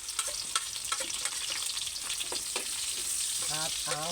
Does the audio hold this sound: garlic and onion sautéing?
yes